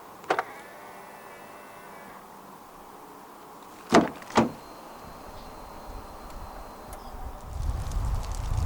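Jetour VT9 1.5 Turbo locking after a press on the driver's door handle: two sharp mechanical clunks close together mid-clip, with a faint chirp earlier and low background rumble, no talk.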